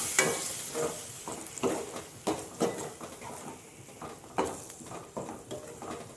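A ground paste frying with masala in a pan for egg curry, a soft steady sizzle broken by repeated scraping stir strokes in an uneven rhythm, fairly quiet with no voices.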